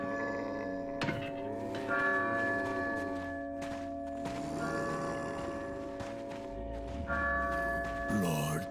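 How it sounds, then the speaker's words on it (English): In the video game Resident Evil 4, a village church bell tolls loudly, its ringing tones sustained and overlapping across the stretch, with game sounds and a few brief sharp noises mixed in around it. "There go that bell."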